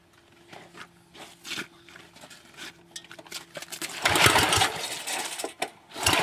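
Someone cranks the flooded engine of a 1973 ST10 garden tractor, giving short repeated churning bursts that build into a louder, rougher sputtering toward the end, recorded up close with no talking.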